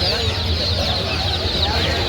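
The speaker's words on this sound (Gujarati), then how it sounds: "એના બચ્ચા કુકડા" Chickens and roosters cluck busily at a crowded Ahmedabad market stall, the birds close and continuous amid a dense bed of market chatter.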